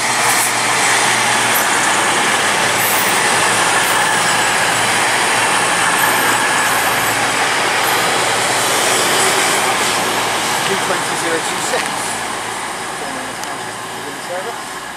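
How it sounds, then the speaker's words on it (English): Cross Country passenger train passing through Brockenhurst station, a loud, continuous roar of wheels and engine close by that holds steady, then gradually fades slightly toward the end. "Cross country service from Bournemouth to Manchester Piccadilly."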